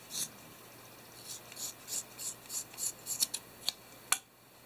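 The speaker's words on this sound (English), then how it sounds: "So now what we're going to do is cut off this bottom part of the sack." Scissors snipping through fuzzy sock fabric, a run of about a dozen close, crisp cuts that quicken and grow sharper toward the end, with quiet room hiss between them.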